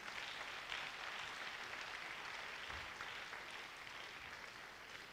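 A church congregation applauds and cheers for a bishop during a French-language service, steady dense clapping at a moderate distance that holds evenly throughout and tapers slightly near the end.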